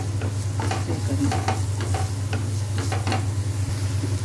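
Chopped onions lightly frying and being stirred in a pan for kachche kele ka kabab, a steady close sizzle broken by scraping stirs, with a brief spoken word near the end.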